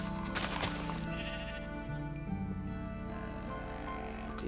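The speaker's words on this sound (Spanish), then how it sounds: "Necesitamos ovejas blancas." Sheep bleating in the video game Minecraft, several repeated bleats over a steady layer of in-game background sound and music, loud and close throughout.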